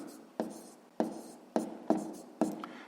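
Pen or pencil scratching out numbers on paper during a sixth-grade column multiplication, five short crisp strokes in an uneven rhythm, close and quiet.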